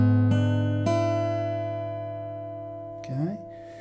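A fingerstyle guitar blues turnaround chord shape, its notes plucked in two clear strikes and then left to ring and fade, with a brief slide or finger squeak near the end.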